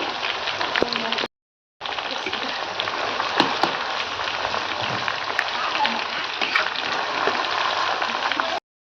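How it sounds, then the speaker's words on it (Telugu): Chicken pieces for chicken pickle frying in oil over a wood fire, a steady dense crackling sizzle running nearly throughout with a brief break near the start. "ఇట్లా నూనెలో వేయించుకోవాలి"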